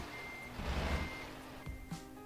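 A Scania truck in Euro Truck Simulator 2 gives a low engine rumble that swells and settles, with steady reversing beeps and a brief air hiss, with no talk.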